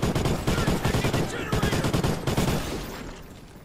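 A big gun fires in a video game, rattling out rapid bursts of heavy automatic fire that repeat in clusters before fading out at the end.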